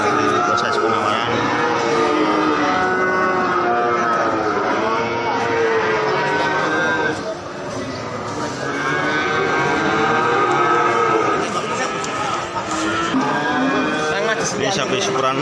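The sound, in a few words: cattle at Ambarawa livestock market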